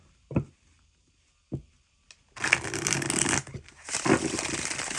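A new tarot deck being handled and shuffled: two soft isolated taps, then bursts of rapid riffling card noise, close and fairly quiet, with no talking.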